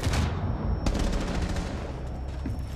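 A gunshot in an esports shooter video game match, loud and dense, with rapid sharp reports rolling through a continuous burst of in-game noise.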